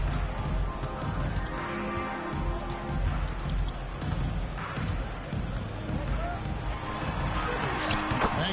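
A basketball bounces off the backboard glass in NBA 2K23, with sneaker-and-court game sound and crowd ambience while a commentator talks throughout.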